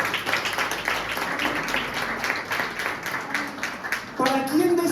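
A church congregation claps during a Sunday worship service, scattered applause under a preacher's amplified voice and lively room noise, with a sung or sustained tone coming in near the end.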